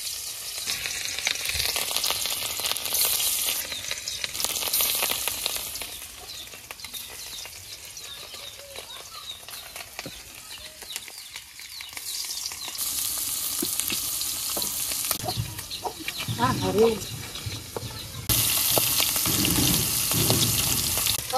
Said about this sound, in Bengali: এবার মাছগুলো আগে ভাজে নেই